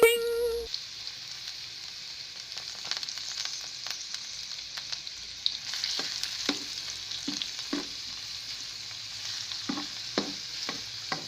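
String beans for ginisang sitaw sauté in a pan with steady broadband sizzling, punctuated by repeated scraping stir strokes and utensil taps, close and moderately loud without any talking.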